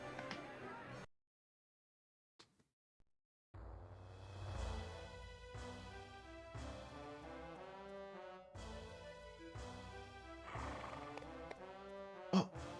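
A horse neighs with clip-clopping hooves in the video game Shining the Holy Ark, a whinny followed by a pause of silence, then game sounds and music with repeated hoof-like thumps and cries.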